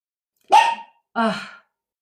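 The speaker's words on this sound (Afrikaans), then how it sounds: "Sy gaan nou blaf want hier stap nou iemand verby." A dog gives two short, loud barks close by in a quiet room, each bark about a third of a second long and split by a brief pause, as someone walks past outside.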